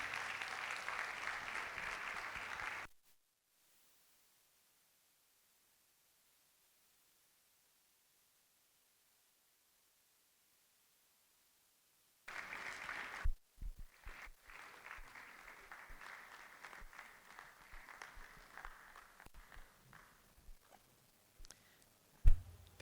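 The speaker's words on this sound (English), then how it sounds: "A round of applause to her." An audience at an orientation for newly enrolled lawyers applauds the president of a women's forum. A few seconds of steady, distant clapping cut to dead silence, then scattered clapping resumes with occasional louder clicks.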